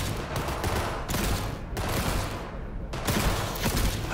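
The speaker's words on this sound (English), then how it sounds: "Why would you shoot at your neighbor's targets?" Dense, continuous gunfire at a shooting range in the video game Cyberpunk 2077, overlapping rapid shots forming a loud, sustained barrage with brief dips, no talking.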